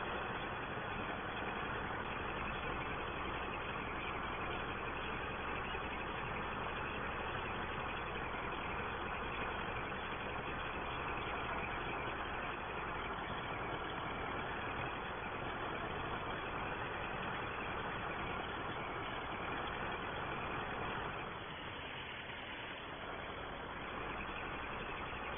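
A Ford 5000 tractor from 1964 ploughing at Attingham Park gives a steady, loud, unbroken engine drone, dipping slightly in level near the end.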